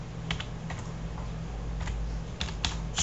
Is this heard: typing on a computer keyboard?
yes